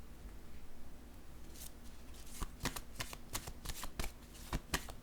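Playing cards handled and set down on a surface, quiet at first and then a series of crisp, close snapping and sliding flicks in an uneven rhythm.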